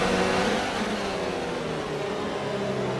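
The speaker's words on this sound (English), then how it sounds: "Very aggressive on the downshifts there" An F1 race car in a video game rides aggressive downshifts, its engine snarling in a continuous, loud, harmonic whine that stays close with no break and no voices.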